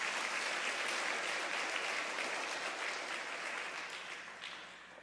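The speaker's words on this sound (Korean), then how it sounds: "찬양팀에게 힘찬 박수 한번 주시기 바랍니다" A church congregation at a New Jersey Presbyterian service claps for the worship team, a steady wash of many hands that is moderately distant and gradually thins toward the end.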